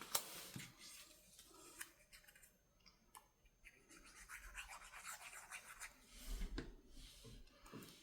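Scissors trimming the edge of a paper Christmas money envelope, quiet rustling and scraping snips scattered over several seconds, close but faint.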